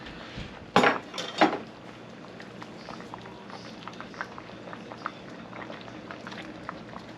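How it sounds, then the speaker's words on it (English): Fish pieces go into a full cooking pot of Guyanese metemgee, two loud clattering thumps near the start and then a quiet bubbling simmer with small pot sounds. "Add my pieces of fish on top there."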